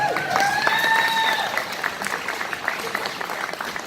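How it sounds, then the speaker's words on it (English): An audience applauds an entrant at a cosplay competition, with steady clapping throughout, a few whoops early on and a voice speaking briefly over the crowd. "And let's get a round of applause."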